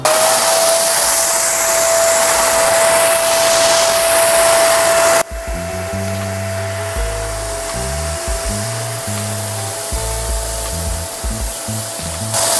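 Conga ThunderBrush 560 cordless vacuum cleaner running loudly along baseboards, a steady high whine with a constant tone, then shifting to a rougher, choppier suction as the brush works the edges close up.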